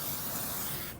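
505 basting spray is sprayed onto quilt batting in one close, continuous aerosol hiss lasting about a second before it cuts off.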